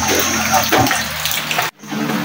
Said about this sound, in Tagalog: makaipon na naman kami ng tubig namin na panghugas at panglaba, pangligo.